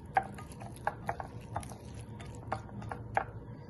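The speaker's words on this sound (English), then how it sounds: "I'll just mix it slowly." A spoon stirs coarsely chopped spinach and a quarter cup of corn together in a baking dish, slow soft scrapes with a few light clinks against the dish, close by and without speech.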